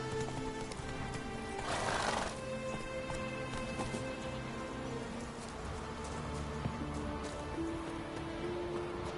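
Roach, Geralt's horse in The Witcher 3, galloping: steady hoof clip-clops under game music, a neigh rising briefly near the start, with soft rain-like patter in the background.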